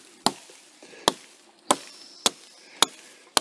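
An axe strikes a freshly fallen wooden limb six times at a steady, unhurried pace, each chop a sharp, loud crack with a brief ring, quiet in between.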